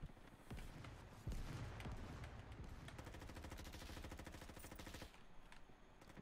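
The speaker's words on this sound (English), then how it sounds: "Why are you shooting at me?" Rapid automatic gunfire from a video game, a dense rattling burst with a heavier blast partway through, continuing steadily for several seconds before easing near the end.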